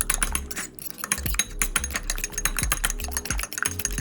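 Eggs are whisked in a bowl at home while making a stir fry. A utensil makes a rapid, irregular clatter and clicking against the bowl, close and fairly quiet, with no talking.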